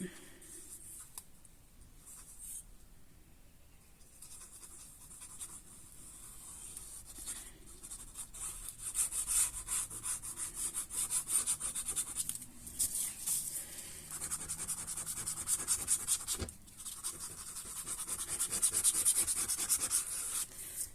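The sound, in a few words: applying glue to paper flaps of an accordion album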